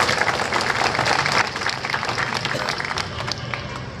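An audience claps steadily at a Home Guard foundation day event to welcome civil defence volunteers, dense sustained applause from a crowd that tapers slightly toward the end.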